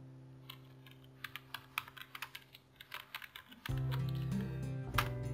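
Typing on a computer keyboard, a quick run of light clicking keystrokes close up, with a few final taps after a low background hum rises partway through.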